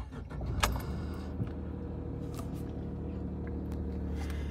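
A Tata car with an AMT petrol engine and an odd number of cylinders starts with a key: a sharp click and brief crank, then a steady, low idle hum that carries on evenly to the end.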